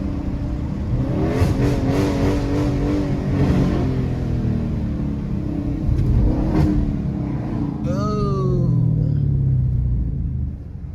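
A car with a muffler delete revs loudly and repeatedly, its deep rumbling exhaust rising and falling close by, with a fainter higher whine near the end.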